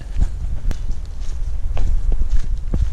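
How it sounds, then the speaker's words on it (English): Two people's footsteps walking together on a trail through bamboo in Tahiti, a close, steady tramping rhythm with wind noise on the mic. "Our footsteps are in sync."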